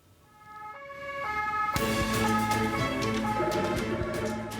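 An ambulance siren wails, swelling in as it approaches on a ring road, loud and close, with traffic rumble underneath and no talking.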